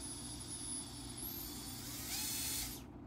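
Drone motors spinning up on a bench motor test, a steady whirring hum with a rising high whine that climbs and then cuts off near the end, fairly quiet and close.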